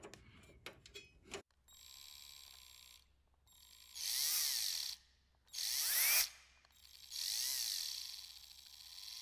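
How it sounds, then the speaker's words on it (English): Screws are tightened down while an Elgato HD60 Pro capture card is installed in a PC. A few quick clicks come first, then three longer bursts of whirring, ratcheting screwdriver sound, close and fairly clear. "I'm just literally tightening everything back down"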